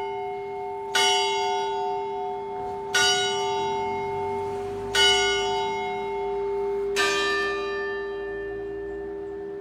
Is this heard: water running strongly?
no